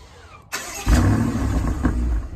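Twin-turbo 4.4-liter V8 in a 2020 BMW X6 M50i starting up: a brief starter whir, then the engine catches with a loud low roar and settles into a rumbling idle.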